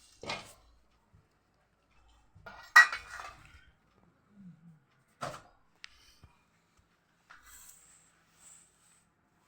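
Cooking pots and utensils, including a kadhai and a strainer, clink and clatter in a quiet home kitchen, giving a few scattered, fairly faint knocks and rattles separated by short pauses, with no talking.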